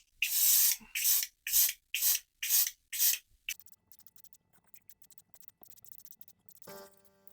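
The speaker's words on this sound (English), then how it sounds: "I got the gun loaded up, so let's give him a good spritz" An airbrush spray gun mists paint onto a dreadnought miniature in six short, even bursts, followed by quiet scattered ticks and handling noises.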